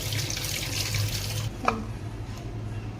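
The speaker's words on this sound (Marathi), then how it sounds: "स्वच्छ पाने धुवून घेत आहे मी" Water from a kitchen tap runs over carom (ajwain) leaves being rinsed, a steady splashing stream that cuts off partway, leaving one small clink and quieter room sound.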